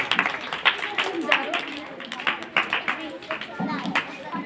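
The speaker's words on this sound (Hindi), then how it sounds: "सर का ताली बजाएंगे।" Schoolchildren clap at a Republic Day school ceremony, a stretch of irregular, fairly close claps that rise and fall, mixed with voices.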